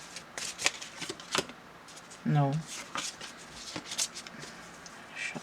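Playing cards are shuffled close up in several quick, crisp riffling bursts, with a brief spoken word in the middle.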